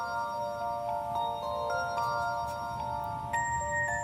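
A phone rings with a repeating electronic tone over a faint background hum, steady and moderately loud, with no talking.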